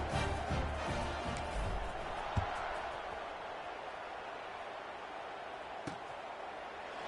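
Stadium crowd in the College Football 26 video game, Boise State at USF, roars in a steady, loud wash around a kickoff, with a couple of brief thumps rising above it.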